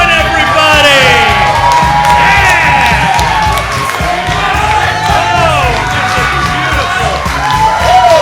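A large audience cheers, whoops and shouts continuously for a show's host, a loud, dense roar of many voices sustained throughout.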